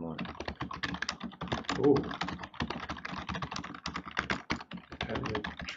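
Rapid keystrokes on a computer keyboard clatter in dense, uneven bursts, close and crisp, while a voice briefly exclaims partway through.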